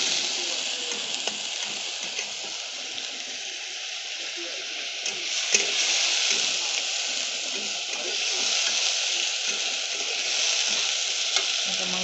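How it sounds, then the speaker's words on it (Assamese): Steady, close sizzling of food frying in a pan before boiled potatoes are added, part of an Assamese home recipe, with a continuous hiss and occasional stirring scrapes throughout. "এইখিনি মই ভালদৰে ভাজি ল'ম।"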